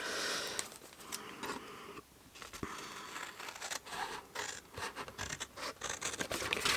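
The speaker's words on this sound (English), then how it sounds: "So I'm going to get those big old scissors back again." Big scissors cutting through card to make a fold-flat desk tidy, a series of close, crisp snips and scraping crunches in an irregular rhythm, heard alone.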